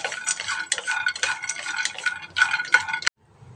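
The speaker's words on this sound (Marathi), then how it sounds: "शेंगदाणे चांगले खरपूस भाजून घ्यायचे" Peanuts dry-roasting in a pan are stirred briskly, giving a close rattling, scraping patter in quick bursts that stops abruptly near the end.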